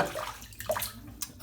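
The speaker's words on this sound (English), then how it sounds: "So let's wet the razor in the water" A razor dipped and swished in a basin of water during a wet shave gives soft, close sloshing and dripping splashes in a few quick bursts.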